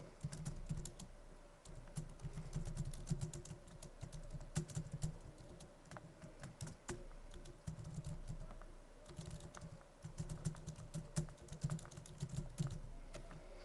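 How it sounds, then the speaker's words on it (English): Typing on a computer keyboard: rapid, uneven clicking keystrokes in steady bursts, close and fairly quiet, continuing alone for over ten seconds. "So you then type as normal."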